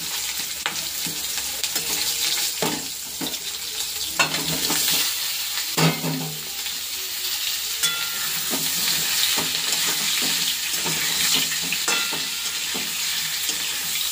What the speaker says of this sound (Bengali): ভালো করে একটু ফুলকপিটা ভেজে নেব